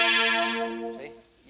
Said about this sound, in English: So this is tuned in fifths now, so you get this.